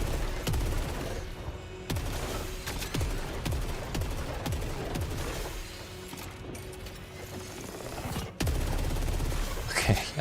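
Hand cannon fire in the video game Saros on PS5 Pro, a run of heavy punchy shots at an uneven pace over a dense backdrop of game sound, with sharp bursts near the end.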